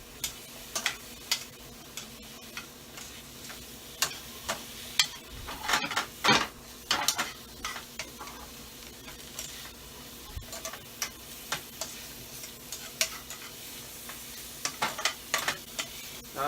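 Mushrooms sautéing in oil in a pan before onions are added, a soft steady sizzle punctuated by irregular ticking knocks and scrapes of a utensil stirring, close and without talk.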